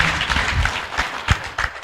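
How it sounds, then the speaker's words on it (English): A seated audience at a Bank of Uganda stakeholders' engagement in Mbarara gives a round of applause, moderately loud and uneven, with some distinct sharp claps standing out. "A bigger round of applause, ladies and gentlemen,"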